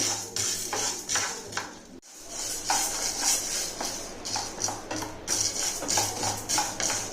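Chana dal being dry roasted in a pan without oil for idli podi, with a steady dry rattle and scraping of stirring running throughout, broken by a brief quiet moment near two seconds.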